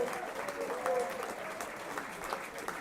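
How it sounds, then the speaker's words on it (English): Football crowd of Marine supporters applauding a hat-trick hero as he walks off the pitch during a Northern Premier League match against Atherton Collieries; steady, dense clapping from the stands continues throughout, with a commentator talking over it. "Round of applause from the Marine faithful for tonight's hat-trick hero, Hayden Campbell"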